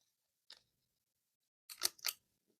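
Scissors snip through pattern paper corners for handmade cards: one short isolated cut, then a quick pair of louder, crisp snips close to the mic, with quiet between.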